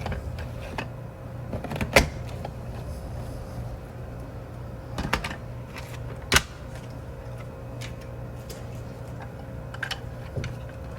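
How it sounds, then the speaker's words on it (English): A paper border punch stamps a row of roses out of red cardstock, giving a few sharp, close clicks and crunches spaced seconds apart over a constant low room hum. "I am just punching a row of roses out of the red cardstock."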